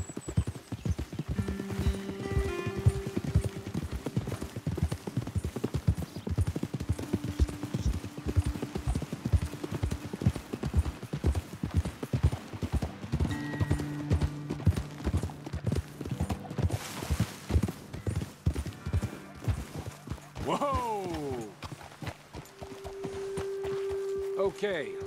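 Horses gallop in Red Dead Redemption 2 with steady, close clip-clop hoofbeats running nearly the whole way, joined by a brief whinny near the end, while people talk over the rhythm and game music plays underneath.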